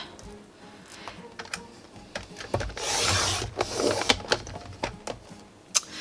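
A strip is cut off a card by hand: small clicks and scraping taps, with a brief louder rasping cut in the middle, close and quiet, with no talk.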